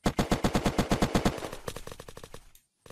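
Gunfire in the video game Unturned: a rapid automatic burst of about a dozen evenly spaced, loud shots. The burst thins into scattered cracks, then cuts off briefly into silence.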